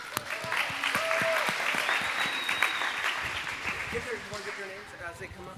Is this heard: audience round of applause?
yes